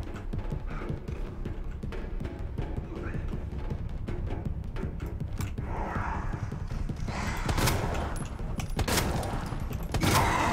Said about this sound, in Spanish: Tres tiros.